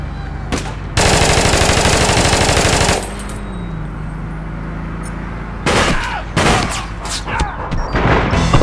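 Rapid automatic gunfire from the video game APB Reloaded, made up of a long, loud sustained burst and then several shorter bursts and single shots close up, with a voice talking faintly in between.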